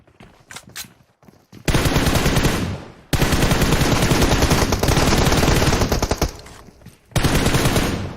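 Loud, close bursts of automatic gunfire from a PUBG Mobile match, several long sustained volleys separated by brief gaps with a few scattered single shots before them.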